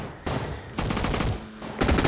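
Gunfire sounds from a shooting video game arena: bursts of rapid shots separated by short pauses, loud and close, with no speech.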